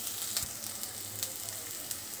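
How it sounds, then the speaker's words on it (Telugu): Masala for an egg curry sizzles in a pan, a dense continuous crackle with occasional light stirring clicks, close by and fairly quiet, no talking. "ఇలాగ మసాలా ఒక 2-3 నిమిషాలు వేగిన తర్వాత"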